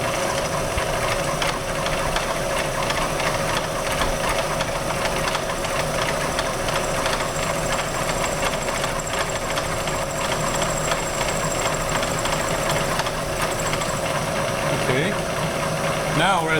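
A vertical milling machine in a lab taking a cut across metal with cutting fluid, a loud continuous motor hum and rhythmic knocking grind from the cutter, steady throughout.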